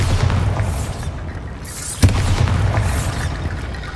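Bombarda blasting spell going off in Hogwarts Legacy, a deep booming explosion thump over a rumbling low backdrop, with a sharper burst near the middle.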